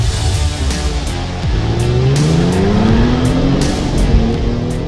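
Genesis car exhaust in Sport Plus mode with its valves open, a loud, steady engine note that climbs in pitch as the car accelerates, with faint regular ticks above it.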